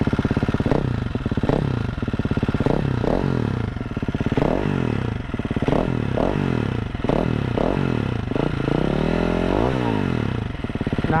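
A KTM 350-500 EXC dirt bike fitted with an uncorking ECU upgrade, running close and loud with a steady idle broken by about ten sharp throttle blips that rise and fall, plus one longer rev near the end.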